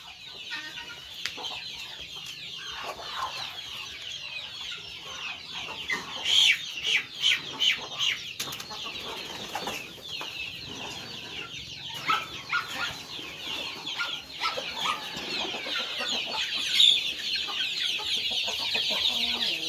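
Chickens on a rural farm garden cluck and squawk repeatedly nearby, with bursts of wing flapping and scattered calls over a quiet outdoor background.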